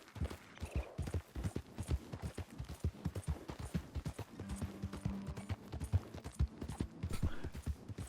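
Horse hooves clip-clop in Red Dead Redemption 2, a quiet, steady rhythmic series of close hoofbeats on the ground for several seconds.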